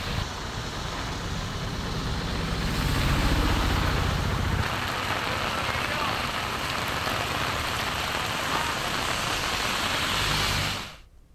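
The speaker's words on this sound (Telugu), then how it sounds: "కామారెడ్డి జిల్లాలో భారీ వర్షం కురుస్తోంది." Heavy rain pours steadily in Kamareddy district, a dense continuous hiss that holds at full strength for about ten seconds, with a low engine-like rumble underneath early on, before cutting off abruptly.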